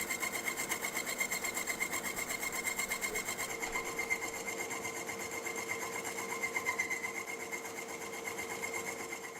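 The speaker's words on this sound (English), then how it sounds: "Here we're making the first pass across the gear with the saw." Slitting saw cutting gear teeth across a gear on an International Harvester No. 15 baler, a steady, rapid rasping grind that continues evenly throughout, close and loud with no talk.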